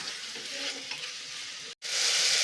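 Salted mutton fries in a pan for a drumstick mutton curry, giving a close, loud, continuous sizzling hiss with stirring, a brief silent gap, then a brighter burst of frying.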